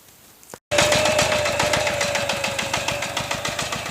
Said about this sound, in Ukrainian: мотоблок їде куди не треба